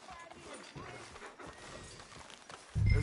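Horse hooves clip-clopping in the Red Dead Redemption 2 game world, a steady run of soft, fairly close hoofbeats mixed under a voice, ending in a louder low thump.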